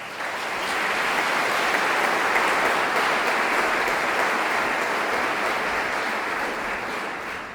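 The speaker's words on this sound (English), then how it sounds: "Please join me in giving them a great big round of applause." An audience gives musicians at a concert a long, full round of applause, a dense, even roar of clapping that swells quickly and holds steady before easing slightly at the end.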